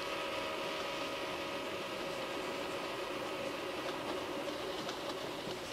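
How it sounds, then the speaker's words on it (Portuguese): A train rushing past close beside the railway line, a loud, steady, broadband rumble and roar that fills the whole stretch without pause. "se você está em pé ao lado da linha quando o trem passa, houve aquela mudança familiar de tom, a mudança Doppler"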